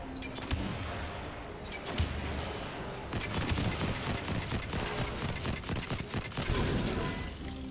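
A heavy weapon in a video game fires a dense, continuous barrage of rapid shots and impacts, steady and loud throughout, with brief heavier thumps scattered in the stream.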